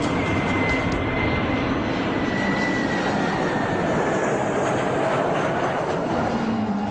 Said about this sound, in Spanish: Al encenderse los motores, nos acomodamos en el asiento